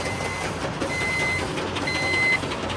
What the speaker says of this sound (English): they actually have sensors that if it reaches a certain level, it's gonna start beeping